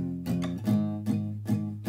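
An acoustic guitar strummed with steady downstrokes, four evenly spaced chord hits in under two seconds, close and clear with no voice over it.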